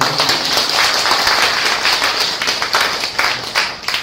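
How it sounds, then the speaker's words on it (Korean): Congregation applauding during a church worship service: a steady wash of many hands clapping together, sustained and fairly loud for several seconds. "박수 좀 한번 해주십시오"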